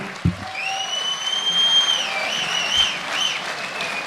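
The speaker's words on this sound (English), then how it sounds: "how about a round of applause for these two guys?" An arena crowd at an MMA event applauds the two fighters after their bout, sustained clapping beneath loud whistles and cheers, with a thump at the start.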